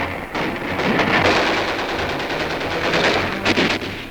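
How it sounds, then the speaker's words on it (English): Heavy artillery in a WWII newsreel fires shells onto Japanese positions on mountain ridges around San Nicolas, heard as a loud, dense barrage of overlapping blasts and rattling bursts that runs without pause. "Artillery pounds heavy shells into Japanese positions on the ridges above."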